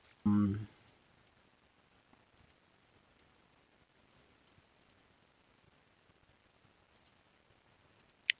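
Soft, sparse computer mouse clicks sound while navigation waypoints are placed on a map for a 2018+ Honda Goldwing, each click isolated and quiet, following a brief low thump at the start.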